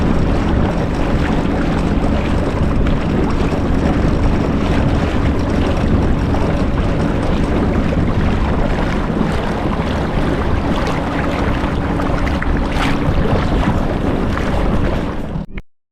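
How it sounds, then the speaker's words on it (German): A boat heads back slowly across the sea off Denmark, with a loud, constant engine and water rush mixed with heavy wind buffeting the microphone and no talk. "fuhren wir dann langsam wieder zurück mit dem Boot"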